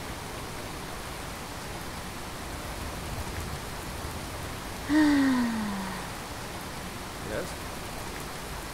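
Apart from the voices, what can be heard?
rain in the video game Skyrim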